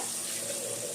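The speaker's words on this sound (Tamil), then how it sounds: "கொஞ்சமாக தண்ணி சேர்த்துக்கலாம்." Water pours steadily into a cooking pot of chicken gravy in a continuous rushing splash, close and even, with no voices.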